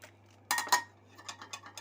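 A spoon clinks against a bowl while scooping gram flour (besan) for crispy fried chicken wings, a few sharp close metallic taps followed by lighter softer clicks, with no voices.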